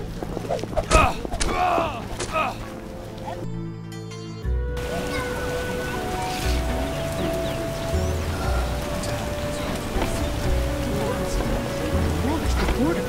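Steady rain pattering on surfaces with low rumbles of thunder in a video game scene, a dense, continuous wash of noise broken by a brief quieter gap, with faint voices and sounds underneath.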